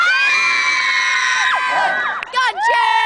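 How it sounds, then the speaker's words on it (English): A crowd at a 2010 event in Scotland cheers loudly for a competitor named Chin, with high children's shouts and whoops layered into a sustained roar that breaks up into bursts near the end. "That was a big cheer for Chin."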